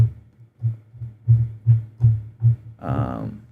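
A Sublab bass preset called Drilly plays a pattern of deep, punchy sub-bass notes in a reggaeton beat, evenly spaced thumps ending in a longer, brighter sustained note, heard alone.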